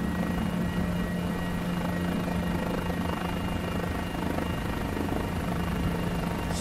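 A Guimbal G2 helicopter in the MSFS2020 flight simulator runs at full power with a loud, steady rotor and engine drone. It holds constant throughout, with a strong low hum and no talking.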